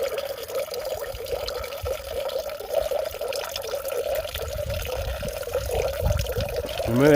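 Steady trickling water runs through a filter on a hiking trip, continuously, a soft close-up flow with a light splashing texture and no voices.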